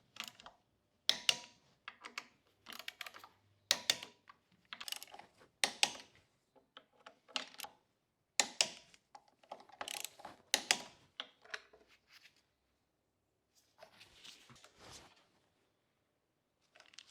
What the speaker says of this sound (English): go around everything with a torque wrench and torque them up to specifications